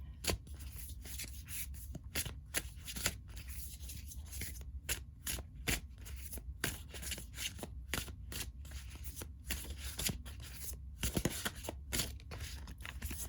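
Large oracle cards being shuffled by hand give a steady, quiet stream of riffling and sliding rustles with sharp slaps and flicks throughout, close up and without talk.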